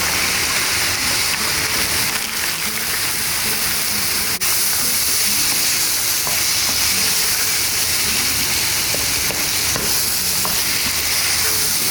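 Frozen okra (bhindi) fries in a pan with a loud, dense, continuous sizzle and hiss, steady and close with a few faint crackles and no talking.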